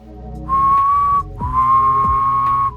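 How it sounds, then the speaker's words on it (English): A steady whistled tone with a buzzy, grinding edge from a hum underneath, in two sustained notes separated by a short break. "Here's a whistle while humming."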